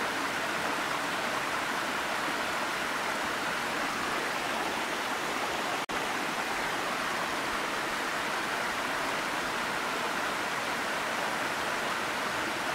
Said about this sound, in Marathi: हा धबधबा 310 मीटर असून 117 फूट उंचीवरून आणि सरासरी रुंदी 30 मीटर म्हणजे 100 फूट वरून पडतो.